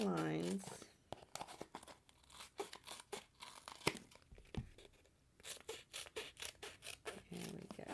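Scissors snipping through foam strips for a handmade card, a quick series of crisp crunchy cuts in uneven bursts with short pauses between, close and fairly quiet.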